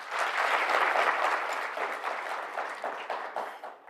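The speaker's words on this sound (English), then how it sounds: "we need a round of applause for that" Conference attendees at a stakeholders' gathering in Namibia give a round of applause, a crowd of hands clapping densely and steadily, then thinning into scattered claps as it winds down.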